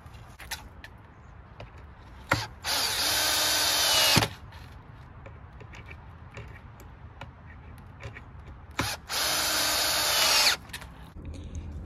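A power drill drives screws into the wood of a rug frame through pre-drilled holes, with two loud sustained whirring bursts of about two and one and a half seconds each, separated by quieter handling clicks.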